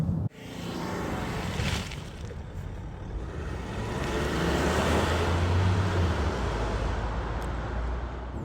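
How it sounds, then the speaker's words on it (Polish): Land Rover Discovery with a 3.0 diesel six-cylinder engine, heard as a steady low broadband rumble that builds slightly midway, with wind-like noise and no talking. "Te 6 garów, ten dźwięk to jest coś, co zauważam, że coraz bardziej mi brakuje"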